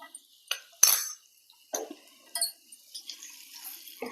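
Fried mustard seeds, chillies and curry leaves tipped from a pan into a pachadi, heard as a series of sharp metallic scrapes, clinks and sizzling splashes spread across a few seconds, close by.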